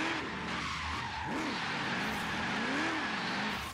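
A Ford F100 rat rod in Forza Horizon 3 revs hard and screeches its tyres through a wide corner, with engine pitch sweeping up and down and a sustained skid, loud and close with no talk.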